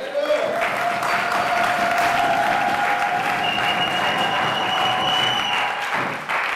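A church congregation applauding during a worship seminar, sustained dense clapping throughout, with a voice calling out over it.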